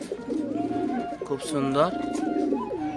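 Madrasi pigeons coo in low, rolling bursts close by, a pair of male and female in a home loft, while someone talks over them throughout.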